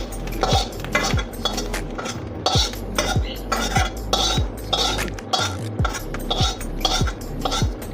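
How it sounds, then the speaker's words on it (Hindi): A spoon stirs fried bitter gourd peels into minced meat in a pot, with repeated rhythmic metal scrapes and clinks against the pot, close and steady, roughly one stroke every half second. "इसको अच्छी तरह से मिक्स कर देंगे कीमे के अंदर।"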